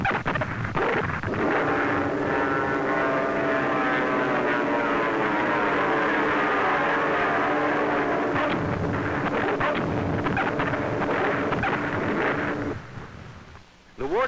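Propeller aircraft engine roar from an American dive bomber in a 16mm wartime film, a loud sustained droning with shifting pitch under voices, fading out near the end.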